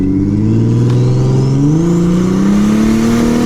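A cheap minivan engine revs up loudly in first gear, its droning pitch climbing steadily as the vehicle pulls hard, close and continuous without speech.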